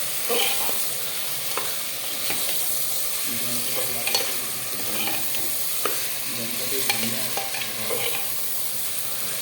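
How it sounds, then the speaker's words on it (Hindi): Mutton pieces being mixed through masala in a pan sizzle steadily while a spoon scrapes and knocks at an irregular pace, close and fairly loud throughout. "अभी बढ़िया से मसालों के अंदर इसको आप मिक्स कर लीजिए मटन को, ताकि सारा मसाले इसमें आ जाए"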